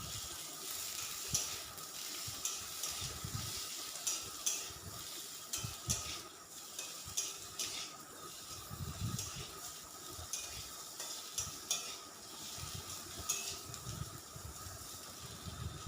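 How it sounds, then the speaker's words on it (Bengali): Papaya and potato pieces frying in a pan, a soft steady sizzle with intermittent stirring scrapes and light clatters, fairly faint and without voices. "পেঁপে আর আলুটা ভেজে নেব"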